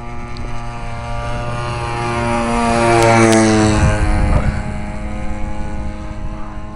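A giant ModelTech RC Piper Cub model plane powered by a converted chainsaw engine drones loudly overhead, its buzzing pitch rising as it approaches and then sliding downward as it passes by and moves away.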